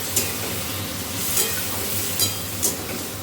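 Spice-washing water poured into a hot pan, giving a steady close sizzle with a few sharper hissing spurts as it is stirred around.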